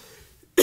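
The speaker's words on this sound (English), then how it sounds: "So I'm going to cough a little" A single sharp cough from someone speaking to a church congregation, loud and abrupt after a brief near-silence.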